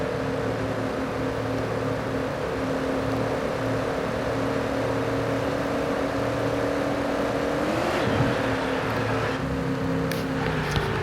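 Engine of a 1977 truck drones at a steady, loud pitch while it drives, with a short surge and rattling scrape near the end as it slides, and no voices.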